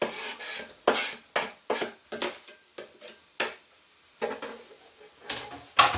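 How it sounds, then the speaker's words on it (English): Chopped ingredients for a spaghetti bolognese scraped from a board into a pan: a series of short, sharp rasping scrapes in irregular bursts, close and fairly loud, with brief quiet gaps between strokes and no talking. "And you can just scrape that in."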